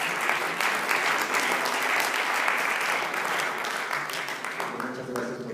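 Steady, dense applause from a lecture audience, loud and sustained throughout with a broad clapping texture that thins slightly toward the end.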